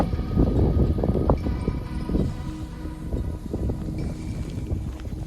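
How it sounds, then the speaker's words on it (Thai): Strong wind buffets the microphone on a Scottish mountain, a low, gusty rumble that swells and eases in uneven bursts, close and dominant throughout. "คือแบบเสียงลมแรงมาก ๆ"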